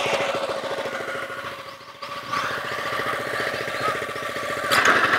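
A golf course greens mower's small engine runs steadily with a rhythmic, pulsing chug as it is driven up loading ramps onto a kei truck, loud and close throughout with no talking.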